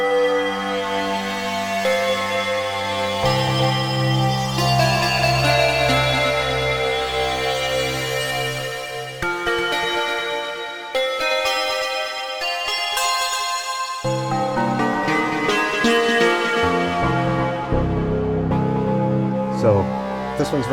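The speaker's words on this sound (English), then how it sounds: "So this one's very bell-like, and then it gets buzzy as it transitions to that final wave" Morphing wavetable synth in Zebralette 3 plays a long sequence of notes whose timbre starts clear and bell-like and grows buzzy, with sustained chords and shifting melodic lines held at a steady, loud level.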